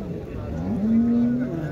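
A cow with her calf at a livestock market moos once, a loud, close, drawn-out low call rising over a murmur of background voices.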